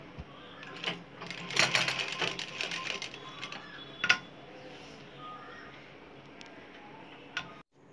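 A sewing machine stitches a narrow plazo pant with a rapid ticking mechanical rattle in short bursts and sharp clicks, fairly close and moderately quiet.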